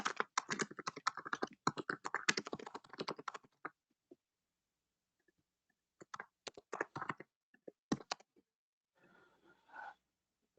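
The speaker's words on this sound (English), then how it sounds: "I can hear you just typing it in again." Quick bursts of computer keyboard typing tap out close and quiet, broken by pauses of near silence before a few more scattered keystrokes.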